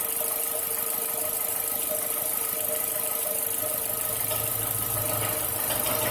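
A car engine idles steadily with a continuous, even mechanical hum and a slight vibrating rumble, close by and unchanging throughout, with no talking.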